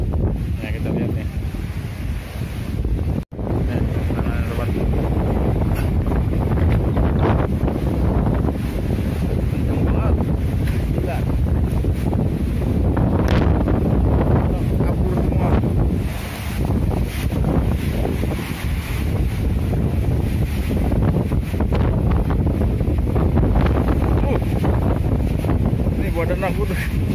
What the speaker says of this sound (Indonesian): anginnya kencang banget tuh